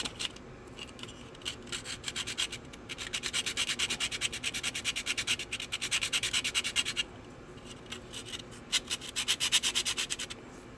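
Rapid back-and-forth rasping of an 80 grit sanding stick on a small model car part, close and fairly quiet, in bursts of steady strokes with brief pauses between them.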